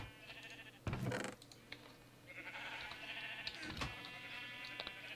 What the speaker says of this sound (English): Through here, on this section is the bulk sheep farm.